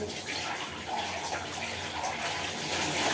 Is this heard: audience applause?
no